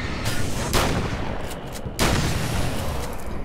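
Shotgun blasts of buckshot in Alan Wake's American Nightmare, two heavy booms about a second apart over a dense rumbling game backdrop, loud and close.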